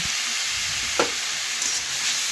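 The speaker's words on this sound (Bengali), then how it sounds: "এখন আমি ছাতুগুলোকে নাড়াচাড়া করে ভালোভাবে একটু ভেজে নেবো" Gram flour (sattu) stirred and fried in oil with turmeric and salt, a steady close sizzling hiss with a couple of soft spoon scrapes against the pan and no talking.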